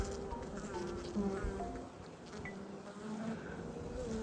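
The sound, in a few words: honey bees buzzing on a hive frame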